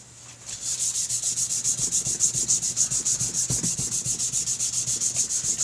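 Dremel rotary tool with a Velcro sanding attachment sanding a BigDog oil tank top cover, a close, loud, steady rhythmic rubbing that pulses quickly, with no talking.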